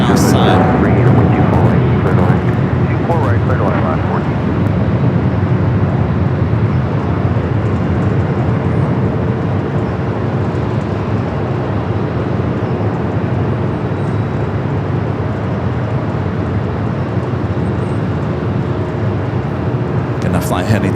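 A Boeing 747-8 freighter rolls down runway 25L on the south side of LAX, its engines a loud, broad and steady roar that lasts throughout with little change in level.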